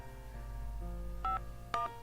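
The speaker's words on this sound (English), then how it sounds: "I dialed the number Kasumi gave me earlier" Telephone keypad tones dialing a number in the visual novel Dies Irae, two distinct clear beeps standing out over a steady low background hum, with no talking.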